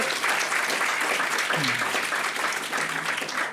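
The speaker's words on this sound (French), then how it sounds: "c'est surtout lui qu'il faut applaudir" Applause from an audience at a humanitarian medical organisation's anniversary event, a dense continuous round of clapping filling the room, with a voice briefly audible partway through.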